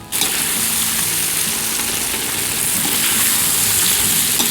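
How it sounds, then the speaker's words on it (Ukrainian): A glass of water is poured into bigos, a cabbage and meat stew, giving a loud, steady splashing gush that starts abruptly and runs on without a break. "Додамо стакан води, щоб все в нас почало тушкуватись."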